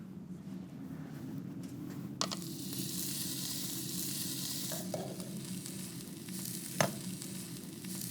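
Skirt steak sears directly on red-hot embers outdoors, giving a steady close crackling sizzle. A sharp pop near the start and another near the end stand out, with no voices.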